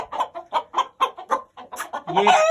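A young Aseel rooster clucks close by in a rapid series of about a dozen short clucks, ending in a longer, louder rising call.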